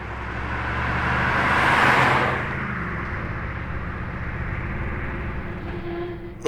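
A full black Lamborghini Urus SE with black wheels and red calipers rolls past in electric mode, a soft tire and road rush swelling as it nears, then fading away.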